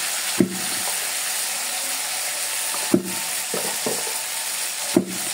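Spices with turmeric and chili powder frying in oil in a pan, a steady close sizzle with three sharp stirring scrapes spread through, while Guchi fish and new potatoes are cooked.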